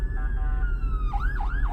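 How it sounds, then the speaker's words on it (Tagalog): A fire truck siren wailing close behind a car on a road trip, a steady tone that breaks into rapid rising and falling sweeps over low road rumble. "fire truck po sa likodan."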